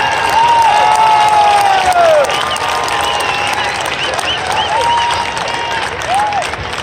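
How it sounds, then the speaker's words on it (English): Football crowd at a high school Ring of Honor induction applauds and cheers for the head coach, loud continuous clapping mixed with whoops and shouts held for several seconds. "let's give a big round of applause to the head coach, Tom Banks."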